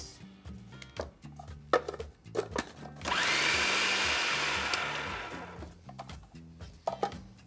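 A food processor blitzes black beans with peanut butter and syrup in one loud whirring burst of about two seconds, rising sharply and tapering off, framed by quieter clatter and background music.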